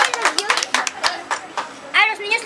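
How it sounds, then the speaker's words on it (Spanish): Scattered clapping at a children's birthday party, uneven claps from a small group mixed with excited children's voices and chatter, close by. "Fuerte el aplauso."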